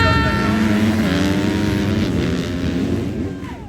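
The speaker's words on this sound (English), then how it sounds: "Always fun to watch the kickstart dead engine start here." Dirt bike engines at a race start roar together in a loud, sustained blur of revving that fades slightly toward the end, with a commentator talking over it.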